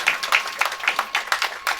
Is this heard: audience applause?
yes